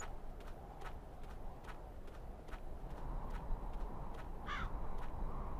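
Bird calls in the video game Syberia 2 come as faint, crow-like caws repeated at a steady, spaced rhythm over a constant low ambient rumble, with one brighter call near the end.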